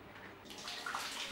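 Shower water running in a washroom, a steady hissing spray with a soft splashing texture, alone and fairly close.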